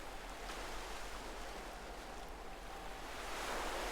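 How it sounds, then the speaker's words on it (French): Continuous broad wash of surf, waves rolling in and swelling slightly louder toward the end, no voices. "chaque vague qui roule vers la rive apporte avec elle un éclat d'écume"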